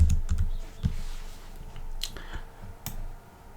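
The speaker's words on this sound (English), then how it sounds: "So if I right click here and do run and type CMD" Keys clack on a computer keyboard at close range, a short run of soft, irregular taps over a low background hum, without any talk.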